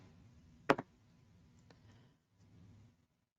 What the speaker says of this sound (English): cut off the tail of the wire